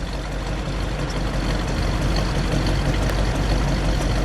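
A 1967 Mercury Cougar GT hardtop with a 390 engine and four-speed idles steadily, a loud, even, rumbling drone held throughout with no voices.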